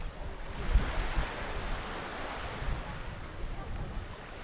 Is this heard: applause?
no